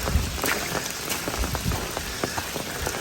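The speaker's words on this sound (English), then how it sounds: "this little additional bit of rain here" Light rain falls in the woods at Ricketts Glen State Park on a waterfall trail, a steady dense patter of drops on leaves and ground with no voices, even and fairly close throughout.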